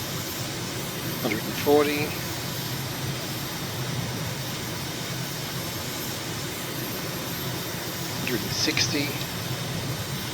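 Aircraft engine in Microsoft Flight Simulator droning steadily during a climb-out with gear and flaps up, a constant broadband hum under brief spoken callouts.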